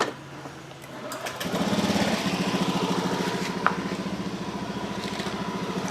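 A small motorcycle engine restarted after an injector check during a stalled-bike repair, idling with a steady, rapid putter that settles into a continuous hum up close, with a brief sharp click partway through.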